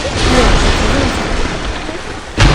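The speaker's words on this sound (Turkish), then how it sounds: "şu arabayı kamyonu getirdim de patladı" A loud boom bursts out near the end after a stretch of steady rumbling video game noise, as a truck explodes, with muffled talk underneath.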